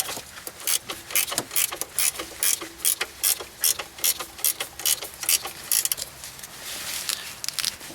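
A hand ratchet clicks in quick bursts while tightening the alternator belt on a Mazda Miata, with rapid, close pawl ticks repeating in short strokes that run together toward the end, and no voices.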